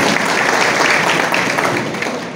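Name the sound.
audience applause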